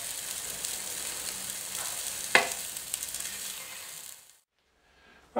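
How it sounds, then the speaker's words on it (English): Meatballs fry in a pan with a close, steady sizzle and a sharp clatter as they are turned, then the sound cuts off abruptly near the end. "start cooking these for about 5 to 6 minutes, turning them occasionally until they're nice and brown all on the outside"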